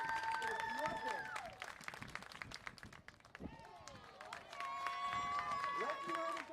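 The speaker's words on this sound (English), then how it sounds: "let's give a huge round of applause to Ms. Leslie Dickerson" Fans at a professional softball game between the Oklahoma City Spark and the New York Rise applaud and cheer for player Leslie Dickerson, a crowd clapping beneath loud talk from an announcer over the stadium speakers.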